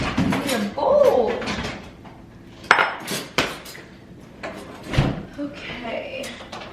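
Kitchen dishes and a bowl being handled while making lunch: scattered clinks, clatters and knocks of crockery and cutlery, with a few sharper bangs, under intermittent nearby talk.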